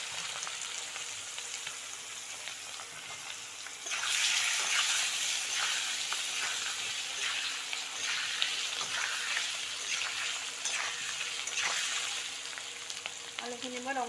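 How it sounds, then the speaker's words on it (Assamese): Potatoes fry in a pan, with a soft sizzle that jumps to a louder, steady hiss partway through and keeps up until a brief scrape near the end. "এতিয়া মই আলুখিনি ফ্ৰাই কৰি ল'ম বেলেগ ষ্টাইলত"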